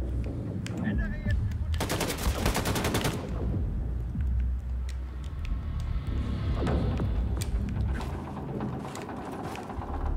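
Gunfire in the video game Wolfenstein 2: The New Colossus, including a loud rapid machine-gun burst and further scattered shots and explosive cracks amid game ambience, with someone talking between bursts.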